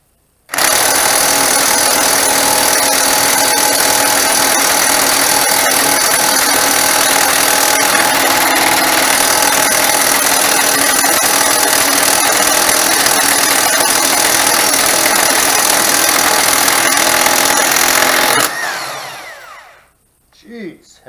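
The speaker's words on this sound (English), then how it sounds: "Alright, special thanks to Musty One for the electric impact and 36 millimeter Super Bolt remover." An electric impact wrench hammers a 36 mm bolt on a 1964 Volkswagen Beetle continuously and loudly for a long stretch with a harsh rattling whine, then cuts off abruptly, leaving brief quiet clatter.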